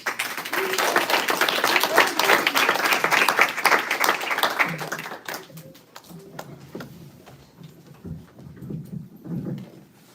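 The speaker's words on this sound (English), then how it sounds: "let's give a big round of applause" A room of people at a kirtan gathering claps steadily and densely for about five seconds, then the applause thins to a few scattered claps under low talk.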